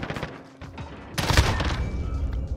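Gunfire from the 725 shotgun in the Modern Warfare video game erupts midway as a loud burst of sharp blasts, following a quieter stretch of scattered game noise.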